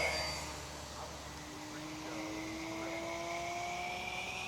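A HobbyKing Durafly Excalibur warmliner RC plane flies at full throttle, its electric motor and propeller giving a steady whine that drifts slowly in pitch as it passes over a soft outdoor background.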